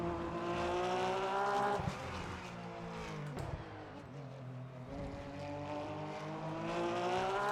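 Race car engine in Le Mans Ultimate, including a short-wheelbase Porsche, droning loud and continuous with shifting pitch as it revs up and down between gear changes.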